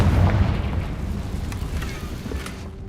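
A Confringo blasting spell in Hogwarts Legacy detonates with a loud, close, rumbling boom that decays into a fading crackle over a few seconds, with no talk over it.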